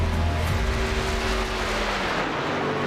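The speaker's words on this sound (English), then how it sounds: "Kern County ARCA Gen 4 sounds amazing." Kern County ARCA Gen 4 race car engine in the iRacing sim, a steady droning motor whose pitch slides gradually lower over a few seconds, loud and continuous with no talk over it.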